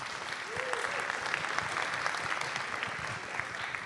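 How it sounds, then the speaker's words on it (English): A conference audience applauds a FinOps panel with sustained, fairly quiet, even clapping that stays level throughout, with some murmuring voices underneath. "Let's give them a round of applause, and we'll take some questions."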